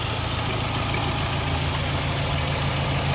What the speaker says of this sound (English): it's quiet, like super quiet. There's like barely any lifter noise on the engine.